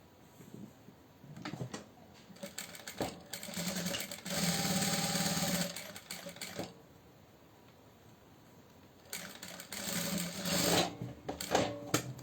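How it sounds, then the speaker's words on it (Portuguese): A sewing machine stitches both sides of fabric for a small basket organizer, with backstitching at the start and end. Two bursts of steady, whirring stitching with fine ticking are separated by quieter handling pauses, close and alone. "Você vai costurar os dois lados."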